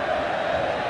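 A football crowd roars in the stands of the Olímpico stadium during Grêmio versus Atlético Nacional in a Libertadores final match, a dense, continuous wash of distant cheering with no breaks.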